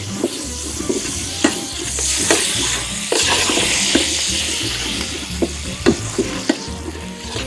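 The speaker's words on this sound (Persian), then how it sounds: "3-4 دقیقه اینو روی حرارت هم میزنیم ولی رنگ آرد تغییر نکنه." Flour being stirred in a hot pan for a prune and spinach stew, a steady sizzle and scrape of the spoon with repeated soft knocks against the pan, close and continuous with no talk.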